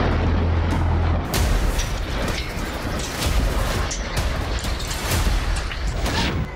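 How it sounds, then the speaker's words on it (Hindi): Heavy rumbling explosion noise from an attack on Ramat David airbase in Israel, with booming low thuds and crackling bursts, loud and continuous, with several sharper impacts spread across the clip. "चौथा धमाका।"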